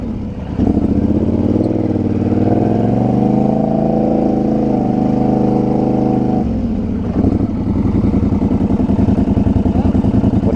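A Can-Am or Polaris 1000 off-road vehicle engine drives close by with a loud, steady droning rumble that rises in pitch, then drops back and settles into a lower idle-like chug.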